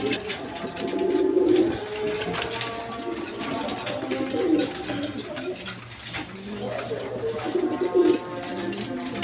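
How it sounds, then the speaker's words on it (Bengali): Domestic farm-bred pigeons, including a breeding pair, coo in low rolling bursts that repeat every few seconds close by, over a faint background hum. "দেখার মতো কবুতর একদম কোয়ালিটি সম্পন্ন কবুতর দেখেন"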